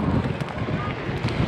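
Strong wind buffets the microphone aboard a boat heading out to sea, a loud continuous rumbling roar over a brief burst.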